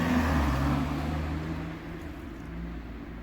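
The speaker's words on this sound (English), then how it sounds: "there's a car on my left, can't start, and now it's passing me in front of me." A car's engine rumbles nearby with a low steady drone, easing off gradually as the vehicle moves past; no talking.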